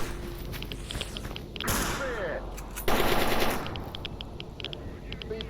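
Video game gunfire, heard as loud bursts of rapid automatic shots that come and go over a few seconds, with steady game background noise and players talking under it.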